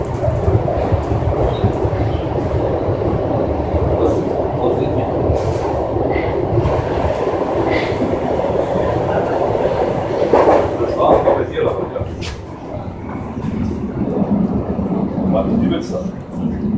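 Berlin U7 U-Bahn train in a station, a steady loud rumble of the subway car with rail clatter throughout, while a recorded announcement and voices speak over it.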